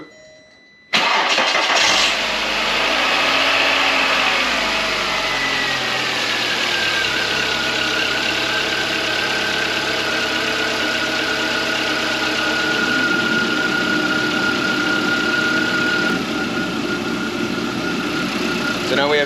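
A 2004 VW Beetle 2.0 engine cranks and catches after a moment of quiet, then settles into a steady, close idle with a faint whine riding over the running hum.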